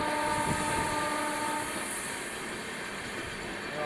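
The Rourkela–Bhubaneswar Intercity train arrives at platform 2 of a station, a steady rumble with a sustained horn tone at first, then a lower continuous roll as it eases in.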